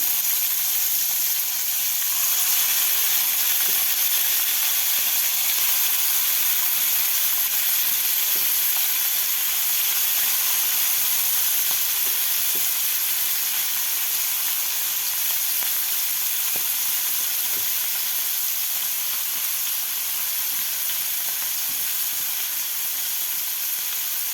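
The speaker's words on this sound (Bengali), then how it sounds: "মাছগুলো কিন্তু আদর আদর করে ভাজতে হবে" Small kechki fish fry in oil in a pan, a loud continuous close sizzle and hiss that holds steady throughout with faint occasional clicks of handling, no voices.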